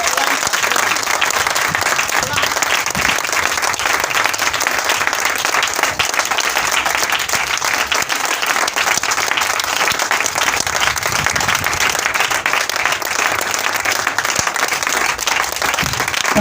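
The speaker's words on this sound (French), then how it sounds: "Donne une acclamation digne de ce nom au Saint-Esprit" A church congregation bursts into loud, sustained applause and cheering, a dense unbroken wash of many hands clapping with crowd voices mixed in throughout.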